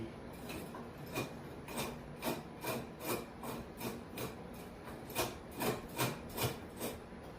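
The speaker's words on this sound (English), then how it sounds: "bolt's hitting that wheel" On a grill cart, a bolt rubs against a turning wheel, producing a regular series of grinding scrapes, about two per second, close and fairly loud, with no speech.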